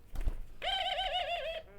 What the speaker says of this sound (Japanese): これ鳩語でですね、いらっしゃいませを2回言ってるんですよ